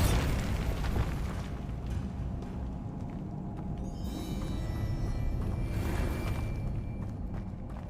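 Bombarda blasting spell explosions in the Hogwarts Legacy video game, a sustained rumbling barrage of booming blasts and bursts with scattered footsteps, loud and continuous throughout with no pauses.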